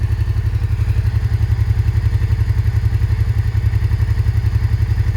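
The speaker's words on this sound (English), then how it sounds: "Just a nice sounding bike." A 1989 Honda XRV650 Africa Twin (RD03) V-twin motorcycle engine idling close by, a loud, steady, even thumping pulse with mechanical clatter, running alone without talk.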